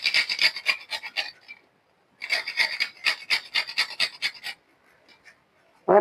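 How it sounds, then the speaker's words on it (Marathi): Nutmeg rasped against a small grater over sesame ladoo mixture: two bursts of quick, dry scraping strokes, close and fairly loud, separated by a short pause, with no talking. "थोडस जायफळ खिसून टाकूया"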